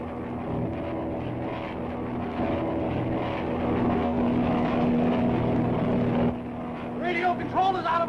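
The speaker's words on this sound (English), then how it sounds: "I'll send her into a dive!" A propeller airplane dives in a 1937 Dick Tracy film soundtrack, its engine droning loudly and steadily before a shift near the end, where other sounds and voices rise over it.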